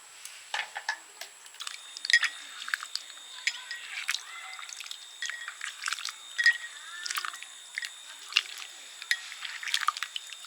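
Tamarind is squeezed and mashed by hand in water to make the sour water for fuchka, with soft wet squelches and drips in an uneven, quiet rhythm.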